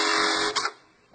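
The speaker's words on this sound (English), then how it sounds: "the machine should cycle and not lock up or jam" A Juki bartack industrial sewing machine runs through a stitch pattern, a dense steady mechanical whir with rapid needle pulsing that stops abruptly, leaving a faint hum.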